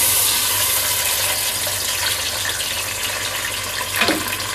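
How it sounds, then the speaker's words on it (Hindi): A quarter cup of milk poured into a cooking pot of cardamom-spiced oil for sweet zarda rice, a steady close liquid rush with a brief splash near the end, no talk. "मैं इसमें डाल दूंगी 1/4 कप दूध"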